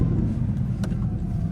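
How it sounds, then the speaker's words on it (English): Audi R8 with a V8 engine and stock exhaust while driving, heard from inside as a steady, close, low engine drone and road rumble at moderate level, with no talk. "For a stock exhaust, the car sounds great, especially because it's right behind you. You can hear it so well."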